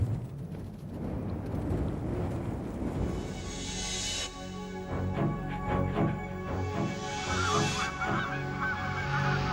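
Arctic birds call with loud, repeated goose-like honks, several overlapping voices close by against a steady outdoor rush, with no talking.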